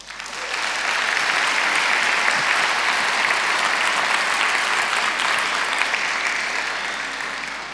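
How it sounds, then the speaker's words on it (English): Steady, warm applause from a conference audience at a women, peace and security policy event, building quickly and holding evenly throughout with no speech over it. "give give our speaker a warm round of applause."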